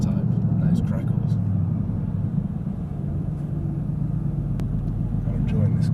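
A Mercedes-AMG GT S engine and exhaust rumble steadily and close while the car is driving, with a low, continuous drone and a few faint crackles on top and no clear talk.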